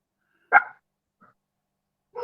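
A single sharp, close dog bark, followed by a faint short yip and the start of another bark.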